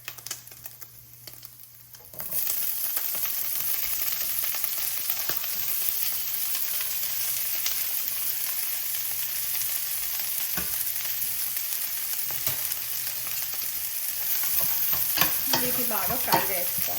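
Cabbage and other vegetables frying for egg fried rice, quiet at first, then a loud steady sizzle bursts in and continues with rapid crackle and occasional clanks of a ladle in the pan.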